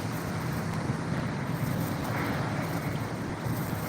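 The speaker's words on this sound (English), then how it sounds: "Yeah, it's real windy out here today." Strong wind gusting at the Delaware River shore in Chester, Pennsylvania, a loud continuous roar buffeting the microphone, with a faint wash of water beneath and no talking.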